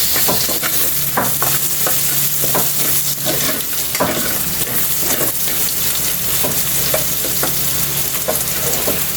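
Onions frying in hot oil while being stirred in a pan for adobong sitaw, a steady loud sizzle with scraping stir strokes throughout, no talking.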